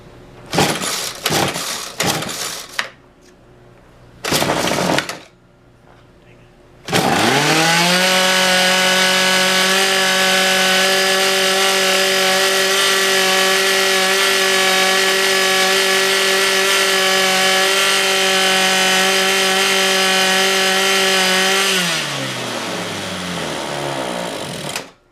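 A Ryobi 2-cycle engine with no air filter and a scored piston sputters through a few short pulls, then catches and runs at a steady, buzzy idle for about fifteen seconds, close by and loud, before winding down and dying.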